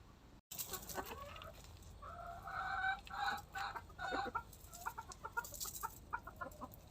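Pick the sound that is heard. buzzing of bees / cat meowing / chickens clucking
chickens clucking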